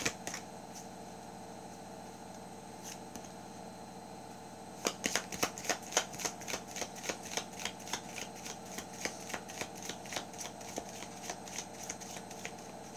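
A stiff deck of tarot cards is shuffled by hand: a few light taps at first, then a long run of crisp, rapid riffling flicks, quiet and close.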